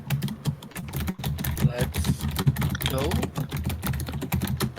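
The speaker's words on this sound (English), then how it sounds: "Typing intensifies" A computer keyboard clatters with fast, continuous typing picked up close by a sensitive microphone, while a voice talks over it.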